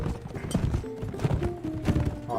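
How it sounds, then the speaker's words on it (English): Rapid clip-clop of horse hooves in the video game Mount and Blade With Fire and Sword, a steady galloping rhythm close by, mixed with game sounds and a brief whinny. "to spur the horse onward"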